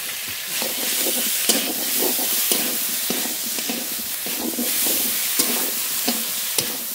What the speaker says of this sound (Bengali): মশলাটা খুব ভালো করে মিশিয়ে নেব